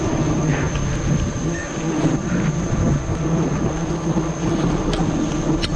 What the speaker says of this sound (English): Thousands of wild bees rush their territory.